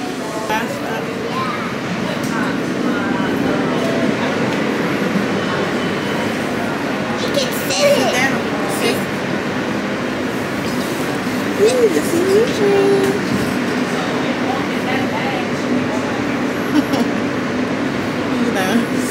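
Steady rumbling and rattling of a New York City subway train in motion, with voices chatting faintly underneath the continuous roar.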